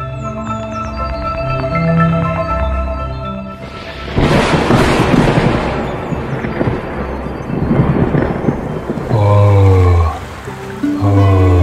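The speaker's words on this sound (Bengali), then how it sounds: "হঠাৎ করে এত বৃষ্টি শুরু হয়ে গেল।" Sudden heavy rain and a thunderclap burst over soft cartoon background music, a loud broadband roar that stays steady for several seconds before tonal music returns near the end; scene from a Bengali monsoon cartoon.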